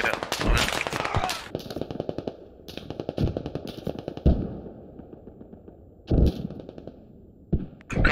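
Rapid bursts of automatic gunfire and sharp single shots ring out in a military shooter game set in a Russian city, loud and close, with brief pauses between volleys and squad radio chatter in between.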